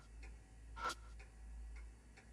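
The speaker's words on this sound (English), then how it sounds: "Old pendulum clock." An old pendulum clock in the horror game Spirit Hunter NG ticks quietly, with soft evenly spaced ticks and one brighter click near the middle over a low background hum.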